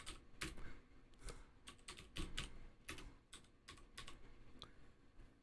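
Quick bursts of computer keyboard typing entering a Google search, irregular clusters of keystrokes close and fairly quiet, with no talk.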